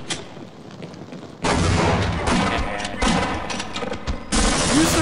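A grenade blows up in the Half-Life mod Edge of Darkness, a loud sudden blast that rolls into a sustained roaring rumble, dips briefly, then flares again at the end.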